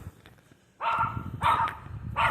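A dog barks in three loud, close bursts roughly half a second apart, following a quieter stretch of low background noise.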